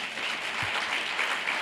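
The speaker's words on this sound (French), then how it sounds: "il mérite des applaudissements." A crowd at the launch ceremony of an arts festival applauds continuously. The clapping is moderate and somewhat distant, and it lasts only a moment.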